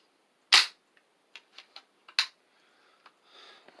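Toy flintlock musket cap gun firing, one sharp loud crack followed by a lighter second pop, with scattered small mechanical clicks and ticks from cocking and handling in between, close and alone.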